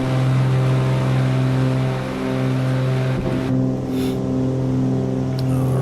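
Twin engines of a Cessna 414A in a flight simulator game drone at full power during the takeoff climb, a loud steady hum that holds at an even pitch.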